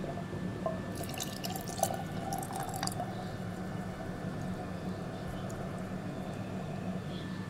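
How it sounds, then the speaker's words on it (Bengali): Liquid jaggery poured into a cooking pan, a steady wet trickle with scattered drips that runs unbroken for the whole stretch at moderate, close volume. "আমি দিয়ে দিচ্ছি এখন গুড়টা। এই যে এটা ঢেলে দিচ্ছি"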